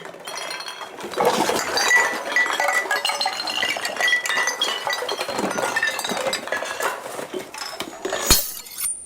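A bunch of glass jars is pushed forward across a floor, and they clink and rattle together in a dense, continuous jangle with one sharp knock near the end.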